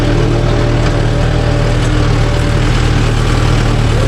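A Mahindra Yuvo Tech Plus 585 4WD tractor engine runs steadily while pulling a nine-tine cultivator through a field, giving a loud, continuous low diesel drone with no speech over it.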